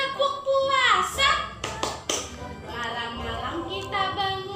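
Young schoolchildren in a classroom chant the tepuk puasa, a rhythmic fasting-themed clapping rhyme, with sung voices and bursts of hand claps and taps spread through the chant.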